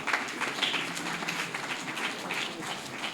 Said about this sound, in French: Et je vous demande de l'applaudir encore une fois de plus.